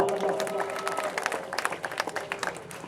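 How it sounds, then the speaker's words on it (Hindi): Audience at a kirtan breaks into applause, a short burst of scattered clapping at moderate distance with a voice speaking over it. "तालियां बजाओ"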